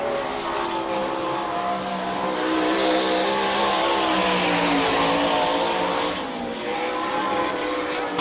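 Sprint car engines roar around a dirt speedway at an All Star Circuit of Champions race in Sarver, Pennsylvania, a loud, continuous blend of racing motors that swells and fades slightly as the cars pass, with no talking.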